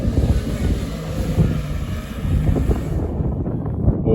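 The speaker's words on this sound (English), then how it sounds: "Can you even hear me out here in the wind?" Strong wind buffets the microphone with a steady low roar and gusty rumble throughout on a hilltop overlooking the ocean near Beachport, easing slightly near the end.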